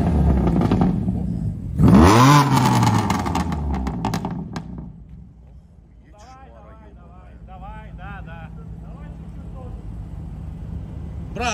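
A car engine revs hard in a sharp, loud burst near the start, then drops away to a low idle while people talk and laugh inside the car.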